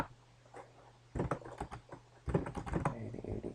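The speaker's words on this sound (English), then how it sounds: "typing L on my keyboard" Close, crisp keystrokes on a computer keyboard during spreadsheet work, arriving in two quick bursts of clustered taps separated by a short quiet gap, with no voices.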